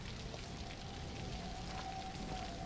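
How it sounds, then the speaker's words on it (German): Broken shower spattering in The Evil Within DLC, a steady hiss of falling water like rain on a surface, continuous and even throughout. "Ja, eine kaputte Dusche."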